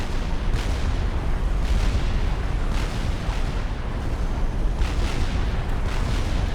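Long-range artillery fire in Supreme Commander pounds in a steady barrage, with dense rumbling low booms and repeated sharp bursts layered over one another throughout, loud and continuous with no voices.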